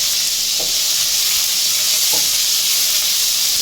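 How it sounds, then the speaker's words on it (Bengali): Thin-cut bottle gourd, about 400 grams, sizzling in hot oil in a kadai, a loud steady hiss with a couple of soft clinks of pieces dropping in. "আমি আগে থেকে এখানে 400 গ্রাম লাউ সরু করে কেটে রেখেছি, সেগুলো তেলের মধ্যে দিয়ে দেবো"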